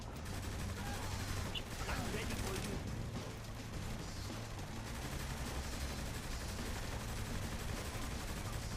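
Gunfire in the video game Saints Row The Third, dense continuous rattling bursts of shots over game noise, fairly quiet overall, with a voice talking over it.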